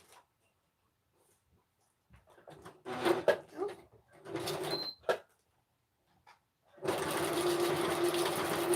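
A sewing machine stitches fabric in short bursts with pauses between, then runs in a steady, loud continuous whir at the end.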